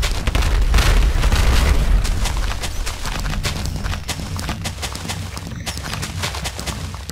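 Video game explosions set off in rapid succession, loud and dense, a heavy rumbling boom at first followed by a crackling barrage of blasts and debris with no talking.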